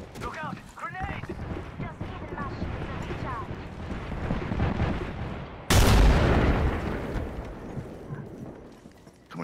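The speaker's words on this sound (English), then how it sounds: "Look out! Grenade!" In the battle royale shooter Apex Legends, gunfire crackles amid chatter before a grenade blast erupts loud and sudden partway through, its heavy boom fading slowly under continued noise.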